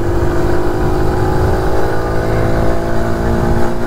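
A 2023 TVS XL 100 BS7 moped engine held at steady throttle, a loud, continuous buzzing drone close by, with no talk over it.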